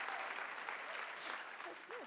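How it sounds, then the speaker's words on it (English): Audience at a general session gives a brief burst of applause, a dense wash of many hands clapping at steady volume, with a few faint voices rising near the end. "There was a brief applause break."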